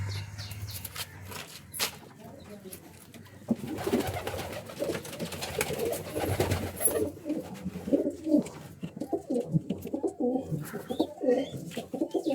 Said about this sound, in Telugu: కొన్ని పావురాలు పైన ఎగరుతా ఉన్నాయి